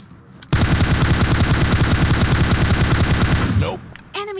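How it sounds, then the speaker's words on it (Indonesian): Sustained automatic gunfire in PUBG Mobile, a loud rapid burst lasting about three seconds close up, then cutting off into quieter game sounds. "Langsung di depan muka musuh kita tembak kepalanya."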